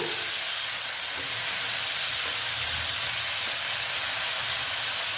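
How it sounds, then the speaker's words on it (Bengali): Banana flower curry cooks in a pan with a loud, steady, unbroken hiss of sizzling, close throughout, with no clear stirring strokes standing out and no talk. "এটা আবার সুন্দর করে আমি নাড়াচাড়া করে নিচ্ছি নাড়াচাড়া বলছি কষিয়ে নিচ্ছি"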